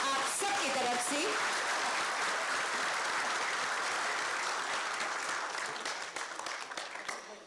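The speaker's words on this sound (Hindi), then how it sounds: "जोरदार तालियां होनी चाहिए आप सबकी तरफ से" An audience at a government appointment letter distribution ceremony in Jharkhand applauds in a dense, sustained burst of many hands for about seven seconds, fading slightly at the end, with a brief voice near the start.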